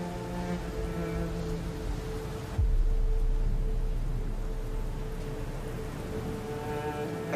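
Rain in a wartime film scene, a steady broadband hiss of falling rain that holds throughout and swells slightly louder partway through, with no voices.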